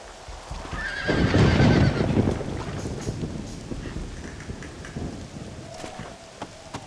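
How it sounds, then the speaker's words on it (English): A horse neighs loudly in the Red Dead Redemption video game, a sharp whinny near the start followed by snorting and clip-clopping hooves, with wind blowing across an open outdoor scene and a second fainter whinny toward the end. "Looks like Carlos left us some horses."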